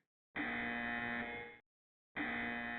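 Two loud, steady electronic warning tones from the Blaster Master video game, each holding a buzzy, harmonic-rich pitch for about a second before cutting out, separated by a short silence.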